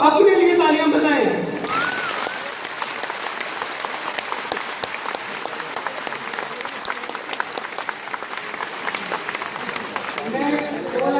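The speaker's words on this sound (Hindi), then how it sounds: "मैं चाहता हूं कि वो सब लोग अपने लिए तालियां बजाएं।" An audience at an RCM gathering breaks into sustained, dense applause for itself, steady crackling clapping for several seconds after a speaker's voice at the start, with talk returning at the end.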